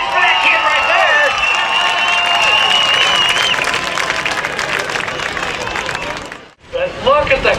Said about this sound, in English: You can make a whole lot of noise for that kid right there.